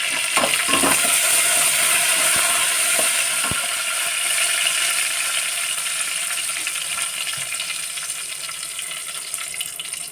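Cumin seeds, curry leaves and tomato seeds sizzle and crackle steadily in hot oil in a pan, a dense close frying hiss with small pops running throughout, no voices.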